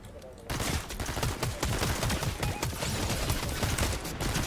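Rapid gunfire rattles in Fortnite, bursting in after a brief quiet start and continuing as dense, repeated shots at fairly close range for the rest of the clip.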